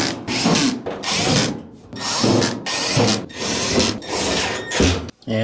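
Continuous, close, loud buzzing of a power driver running screws into the cover of a Kenmore 500 Series gas dryer, in several bursts of about a second each with brief pauses between them and no talking.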